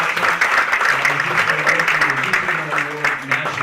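An audience at a Broward College panel discussion on homelessness applauds the panelists, a dense, steady clapping that fills the clip from start to finish.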